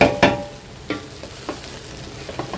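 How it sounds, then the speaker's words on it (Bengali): Fried rice being stirred in a large pan with capsicum and other vegetables, giving a faint sizzle under a series of soft scraping strokes, with one sharper scrape near the start and a few lighter ones spaced out after. "ফ্রাইড রাইসটা ফ্রাই হয়ে গেছে অনেকগুলো তো নাড়তে থাকতে একটু সময় লাগতেছে"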